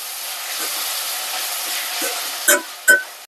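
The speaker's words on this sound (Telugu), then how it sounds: "వేసిన తర్వాత ఒకసారి కలుపుకున్నాను" Ingredients for a cluster bean fry with tomato sizzle steadily in a pan, then two short scraping stirs near the end.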